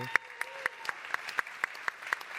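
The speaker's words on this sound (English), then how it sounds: "how about a round of applause for that?" A single person claps slowly and evenly, about ten claps spaced roughly a quarter second apart, fairly faint in a quiet room.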